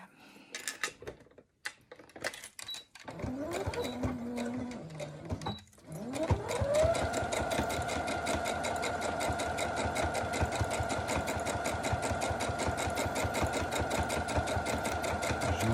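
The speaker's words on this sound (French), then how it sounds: "je fais ma deuxième surpiqûre" A sewing machine topstitches a second seam on a multi-layer fabric travel placemat with cutlery pockets, stitch length 3.5. A few short start-stop bursts give way to a long, steady run of rapid, even stitching, close and clear, with no talk.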